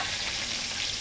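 Caraway leaf, wetted in water first, frying in a pan of oil for a Burmese beef and potato curry, giving a steady broadband sizzle that holds evenly throughout with no talking.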